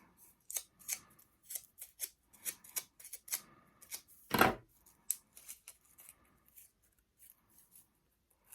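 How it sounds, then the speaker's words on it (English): Scissors snip and crunch through crepe paper in a quick, irregular run of sharp cuts, with one louder, fuller crunch midway, close up and with no talking. "And as you are using the back edge of your scissors,"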